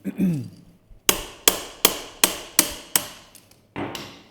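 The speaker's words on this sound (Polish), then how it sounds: "teraz odkręcamy ośkę" Loosening the axle on a BMW R1200 RT motorcycle, heard as eight sharp, close metallic strikes, the first seven in a steady, evenly spaced series, then a short pause before a final blow, with a brief low rumble just before them.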